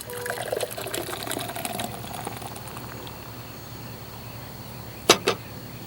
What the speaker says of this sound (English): it pours off a pretty head